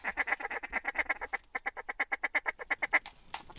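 Ducks quack in a rapid run of repeated calls as a flock flies in during a hunt, loud and close, with a brief pause midway before the quacking resumes.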